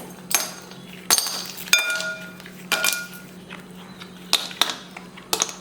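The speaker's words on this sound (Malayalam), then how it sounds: "ഐസ് ക്യൂബ് ഇട്ട് കൊടുക്കുന്നുണ്ട്." Ice cubes drop into a bowl for a Sip-Up sherbet drink, making about seven sharp, bright glassy clinks at irregular intervals, each close and ringing briefly over a quiet background.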